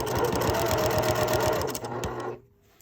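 A sewing machine stitches steadily at a slow, even pace while hemming a thrifted men's shirt, its rapid rhythmic needle chatter running close and loud for over two seconds before stopping abruptly.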